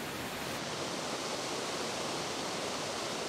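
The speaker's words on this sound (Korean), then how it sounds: "높이 97m에서 떨어지는 폭포의 물소리가 소복이 쌓인 눈 위로 안개처럼 내려앉습니다" Steady, dense roar of a waterfall dropping 97 m into a snowy valley, a continuous broadband rush with no breaks or voices.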